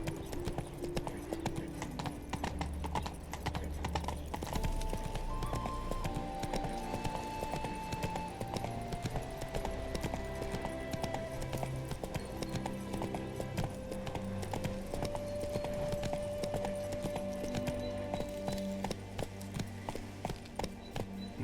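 Hooves of Geralt's horse Roach clip-clop steadily in The Witcher 3, a continuous rhythmic gallop running under a sustained musical score throughout.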